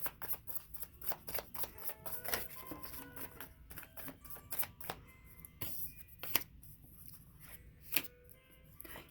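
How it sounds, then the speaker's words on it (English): Wild Unknown tarot cards being shuffled by hand in a quiet room, a fast run of crisp riffling snaps and soft slides with a few sharper clicks, close and alone. "I'm gonna pull a few more cards. I'll use my Wild Unknown."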